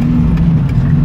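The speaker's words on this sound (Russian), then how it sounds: "выхлоп прямоточный, слышно сдалека, когда она едет" A modified ZAZ car with a straight-through exhaust drives along a street, its engine giving a loud, steady low drone that holds throughout without a break.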